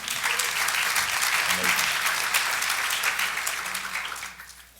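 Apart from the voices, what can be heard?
audience applause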